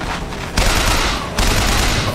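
Rapid gunfire from a weapon in the video game BioShock Infinite, two loud sustained bursts of automatic shots filling the short clip.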